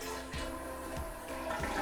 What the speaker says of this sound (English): Next, you want to flush the toilet to empty the water out of the tank.